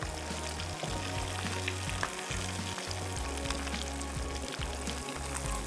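Dessert batter deep-frying to a golden colour on a flame sizzles steadily in hot oil, a dense continuous crackle with no talking.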